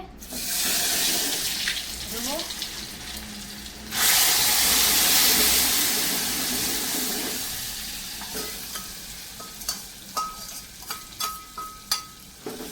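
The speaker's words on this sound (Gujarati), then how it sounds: "શાક વઘારવાનું ચાલુ છે" Vegetable tempering sizzles hard in a hot pan in a home kitchen, a loud burst of frying hiss that flares up midway then settles, followed by scattered clinks and stirring taps.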